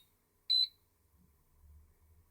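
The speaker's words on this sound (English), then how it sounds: "Some of the beep noises sound very similar to the Turnigy or these IMAX ones." A single short, bright electronic beep from an Eachine Touch T100 multi-chemistry charger set to balance charge a 3-cell pack, sounding once clearly and then giving way to faint low rumble.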